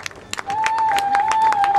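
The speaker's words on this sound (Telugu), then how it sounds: "Gonna stand there all of you clap for Jejamma." An audience claps for a costumed child at a cultural programme at the Hyderabad Book Fair on Necklace Road, with scattered claps swelling into steady crowd applause beneath a long, sustained tone.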